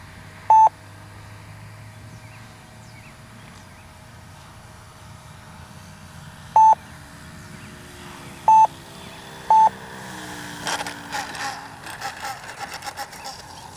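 A radio-controlled flight timer for a Great Planes Ryan STA model airplane beeps outdoors, four clean single-tone beeps spaced apart, followed by faint rustling and handling noise.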